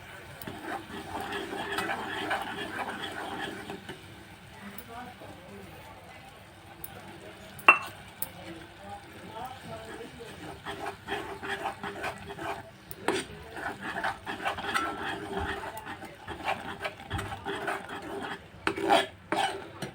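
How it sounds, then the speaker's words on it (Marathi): A spoon stirs a jackfruit modak mixture with added milk powder in a pan, soft scraping and clinks running on and off for about twenty seconds, fairly quiet and close, with one sharper knock partway through. "आता त्यामध्ये आपण थोडी दूध पावडर घालू आणि ढवळून घेऊया"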